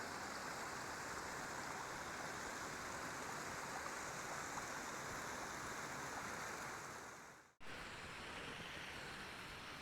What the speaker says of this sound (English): this little stream that's running off from Solitude Lake down to Shelf Lake